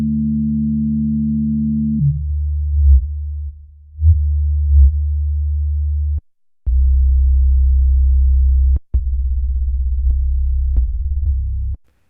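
Roland Alpha Juno 2 synthesizer playing deep bass notes with the filter sweeping, giving sustained low tones that shift and pulse, with short clicks between notes and no talk.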